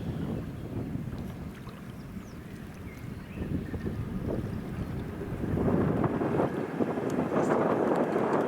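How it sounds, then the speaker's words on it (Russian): Strong wind buffets the microphone beside a river on the Oka while fishing, a continuous roar of gusts that grows louder toward the end. "Да, ветер, конечно, хороший."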